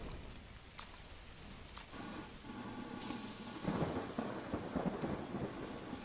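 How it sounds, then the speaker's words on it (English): Thunder rumbles from lightning strikes in the Monochroma video game, with a steady rain-like wash throughout and a louder rolling crack midway, distant and unaccompanied by talk. "Lightning strikes."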